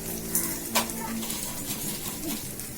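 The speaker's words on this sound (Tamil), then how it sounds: "சின்ன வெங்காயம் பூண்டு கருவேப்பிலை போட்டு எண்ணெயில் வதக்கிட்டோன்னு உப்பு சேர்த்துக்கலாம்" Small onions, garlic and curry leaves sauté in hot oil with a steady soft sizzle, a couple of sharp utensil clinks standing out over the quiet frying.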